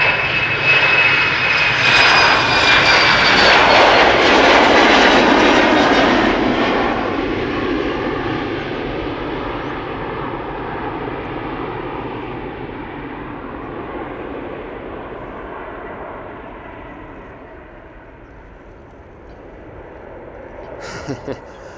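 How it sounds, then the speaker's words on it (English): A KLM Embraer 190 jet, about 15 years old, departs Schiphol Airport for Prague with a loud, close engine roar and whine that peaks early, then fades steadily into the distance. "It's an Embraer 190."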